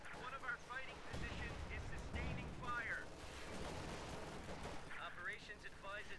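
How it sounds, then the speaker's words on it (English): Heavy artillery and gunfire rumble through a Company of Heroes 2 battle, booming blasts over a dense wash of shooting and explosions, with voice chatter layered on top. "they have the artillery thing that's wrecking me"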